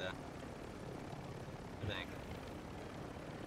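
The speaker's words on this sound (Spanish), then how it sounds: "Aquí tenemos el helicóptero de Almaraz." A helicopter flies nearby in Warzone 2.0, its steady rotor and engine roar filling the background throughout while a person talks over it.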